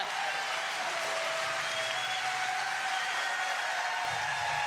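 A crowd applauds Ben Johns' pickleball championship win at the Florida Open, a steady, dense wash of clapping that holds evenly throughout, somewhat distant and moderately quiet.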